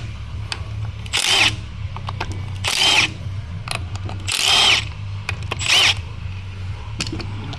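A power tool, likely a drill or impact driver, removes bolts from a Mopar car in four separate loud whirring bursts of about a second each, with quieter workshop clatter between them.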